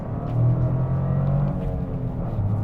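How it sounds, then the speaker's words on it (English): Toyota GR Corolla's three-cylinder engine running close by, a steady low droning rumble with faint harmonic whine that swells slightly early then holds even, with no talking over it. "Listen to that little 3-cylinder."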